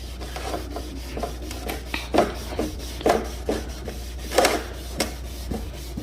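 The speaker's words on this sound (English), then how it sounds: "There's a bunch of little dots on it, so we need to go ahead and just sand it down until we remove those." Carbon fiber overfender sanded by hand to remove small surface dots, giving a series of rasping back-and-forth scrubbing strokes, irregular but repeated, close and moderately loud over a low steady hum.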